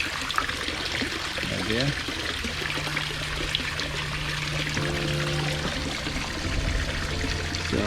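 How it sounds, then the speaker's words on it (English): Water trickles and streams steadily nearby through a koi pond bypass beside a waterfall, with a voice speaking briefly over it. "the water gonna run too strong in the falls there and making a lot of loud noises"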